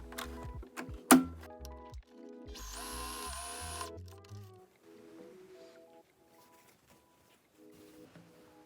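A sewing machine stitches a buttonhole on shirt fabric with a buttonhole presser foot, heard as short mechanical whirring runs with clicks between them, close and fairly quiet.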